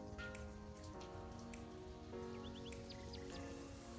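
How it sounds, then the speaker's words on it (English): Sleet of ice mixed with wet snow falls steadily on the ground outdoors on a winter morning, a continuous patter, with a steady tonal hum in the background and a few faint bird chirps. "Is ice mixing with the snow"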